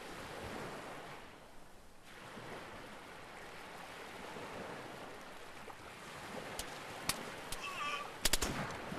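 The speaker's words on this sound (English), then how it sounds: "You can hear multiple gunshots still ringing out." Several sharp, distant gunshots crack out near the end over a steady rushing, surf-like background noise, with no talking.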